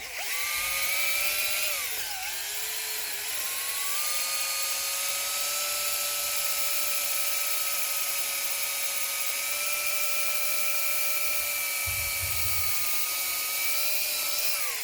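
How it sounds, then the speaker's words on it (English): A high-pitched power drill with a wire wheel on aluminum, on a 2002 Honda CR-V, whines steadily for the whole stretch, with a gritty scraping wash over it and a brief dip in pitch early on. "Tool of choice to usually scrape all this crap off is a drill with a wire wheel."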